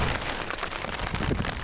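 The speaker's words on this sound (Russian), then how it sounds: "А там идет дождь." Steady rain falls on a river around a boat, a dense, even hiss of drops striking the water close by, heard alone without voices.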